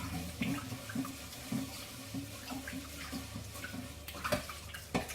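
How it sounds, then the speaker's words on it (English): Rice is washed by hand in a bowl of water for sweet and sour pork, stirred and squeezed through the fingers, giving a steady close sloshing and swishing with soft rhythmic churns and occasional splashes, without talk. "We're going to wash it anyway, 5 or 6 times."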